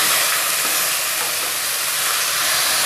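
Onions dropped into hot oil for a jeera rohu fish curry give a loud, steady, dense sizzle that holds close and even throughout, with no voices over it.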